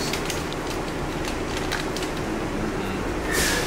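An airport tram hums and rumbles steadily as it moves toward the D gates, a continuous broad rolling noise with a brief higher hiss toward the end.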